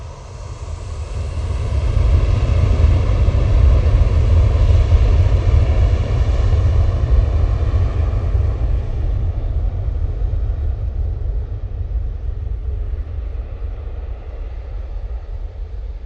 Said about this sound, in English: There goes the Ryanair. Off to Harnia.